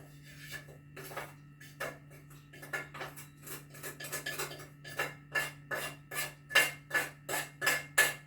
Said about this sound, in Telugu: ఈ పిండినంతా గిన్నెలోకి తీసి తడి పెట్టుకోండి